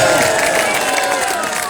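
A club crowd at a trophy presentation claps and cheers, a loud dense wash of clapping and shouting voices over a short stretch.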